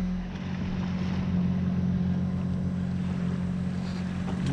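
Sailboat motoring under engine power on an ocean crossing, a steady low drone with wind noise, continuous and even throughout with no talking.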